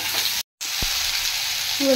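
Prawns, potato, taro, radish and green chilli stirred together in a hot frying pan, with a steady, close, loud sizzle that briefly cuts out before resuming, and no talking.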